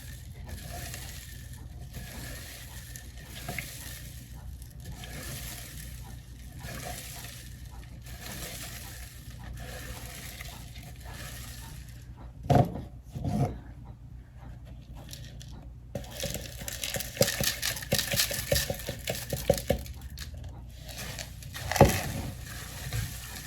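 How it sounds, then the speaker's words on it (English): Goat milk soap mixture being stirred by hand, a steady low scraping swirl running throughout, with a few sharper clinks and bumps near the end and no talking. "Just keep stirring"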